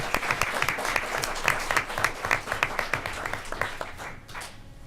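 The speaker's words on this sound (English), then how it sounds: "About one more round of applause as they head to their seats" People at a school board of education meeting give a round of applause, a fairly dense run of claps with distinct individual strikes, tapering off near the end.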